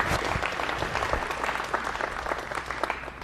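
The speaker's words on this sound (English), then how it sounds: "So a big round of applause for our staff team." An audience applauds a YMCA staff team at a community gathering, dense steady clapping filling the full length at moderate loudness with no speech over it.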